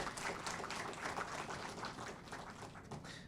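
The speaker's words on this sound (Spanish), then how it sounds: "Recibimos también con fuertes aplausos" Sustained applause from an audience at a university panel session, greeting a university rector; steady, dense clapping throughout with no talk.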